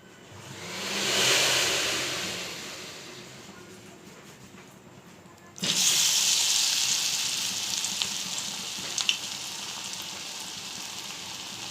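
Onion fritters in gram-flour batter dropped into hot oil in a wok, a steady hiss that swells, eases, then jumps to a loud, continuous sizzle once the batch goes in, with no talking.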